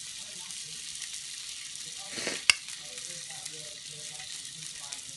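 Sausages frying in a pan, a steady quiet sizzle with a brief louder hiss and a sharp clatter near the middle as they are turned, with a voice heard faintly.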